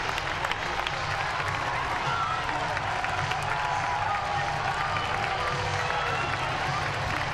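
A small ballpark crowd stands and applauds a player's major league debut, steady clapping and cheering sustained throughout, with a low rumble of voices underneath.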